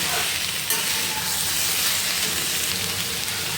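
Potato and pumpkin pieces fry in oil in a pan, a loud, steady, dense sizzle like heavy rain that continues without a break.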